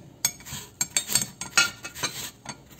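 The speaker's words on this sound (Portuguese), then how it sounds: "Eu vou ficar ralando aqui e já já a gente volta" An unpeeled apple rubbed against a metal grater, a series of close, sharp scraping strokes in an irregular rhythm, each stroke a short bright rasp, with no voices over it.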